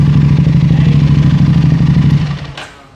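An Aprilia RS 457 fitted with a GPR full-system titanium exhaust throbs loudly and close at idle with an uneven pulsing beat, then falls away, leaving a brief crackle at the end.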